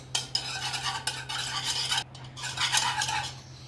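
Beaten eggs with salt being stirred briskly in a bowl for a bread omelette, a close, rhythmic scraping and clinking of utensil against the dish in repeated strokes with short breaks and a low steady hum behind.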